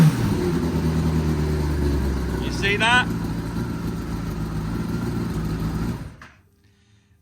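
A Kawasaki ZX10R Gen 5 sport bike engine runs at raised revs, hangs there, then drops away to near silence, loud and close, with someone speaking briefly over it.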